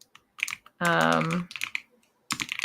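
Quick clicks of typing on a computer keyboard arrive in short bursts, interrupted midway by a brief, sustained voiced sound before the tapping resumes.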